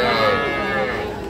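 Heifer calves at a busy cattle market, with a drawn-out moo rising from the crowd noise and voices talking nearby throughout.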